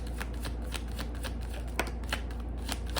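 Tarot cards being shuffled and drawn at close range, a steady papery riffle with a few sharper snaps as cards are pulled from the deck, no talking.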